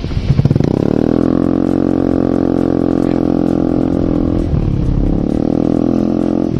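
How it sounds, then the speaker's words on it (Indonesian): Honda Beat Hybrid scooter switching over to its petrol engine, starting with a short clattering burst and then settling into a loud, steady close-up engine drone with a slight change in pitch partway through. "bagaimana kalau kita melakukan perpindahan dari mesin listrik ke mesin bensin? Langsung kita starter aja."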